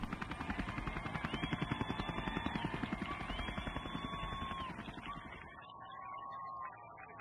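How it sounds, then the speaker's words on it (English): Police helicopter flying overhead during a Boston running event, steady rapid rotor chop throbbing for several seconds before fading away. "I can hear the police helicopter flying overhead."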